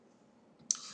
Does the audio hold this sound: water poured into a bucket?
no